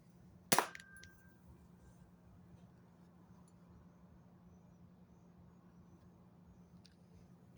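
A cheap toy cap gun fires a single sharp, loud crack near the start, then only quiet room noise follows.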